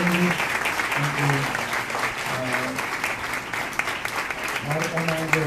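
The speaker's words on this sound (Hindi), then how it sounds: "तो ये तालियां बजाकर हम खुदा के खादिम को एहतराम करेंगे" Congregation applause at a Sunday church service in Rawalpindi, a sustained patter of clapping at moderate loudness running under a man's speech throughout.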